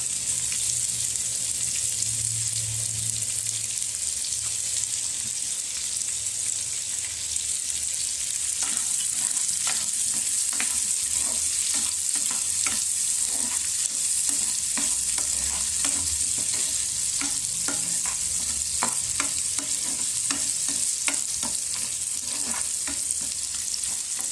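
Raw mango pieces cook in a spiced tempering over a low flame for a sweet-and-sour Gujarati curry, giving a steady soft sizzle with repeated scraping clicks of a spoon stirring the pan.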